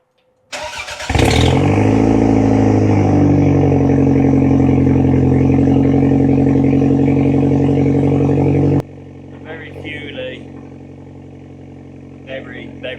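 A Toyota MR2 turbo fitted with a Greddy blow-off valve cranks and fires, then runs loud and unevenly for about eight seconds before it cuts off, leaving faint background sounds.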